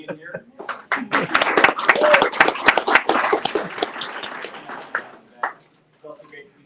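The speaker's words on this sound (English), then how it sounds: "I'd like to give Senator Fields another big round of applause." Audience applause at a Colorado Attorney General debate, a burst of many hands clapping that swells, then thins out and stops, with a few stray claps and voices at the end.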